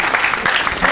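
A church congregation applauds and cheers at a worship service, a dense burst of clapping and voices filling the whole moment.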